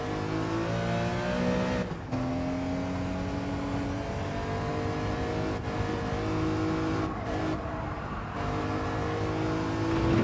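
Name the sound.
car tires squealing in racing video game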